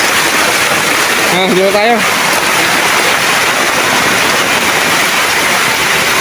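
Water flows steadily along a hillside canal in the mountains, a continuous broadband rush filling the scene, with a voice speaking briefly over it.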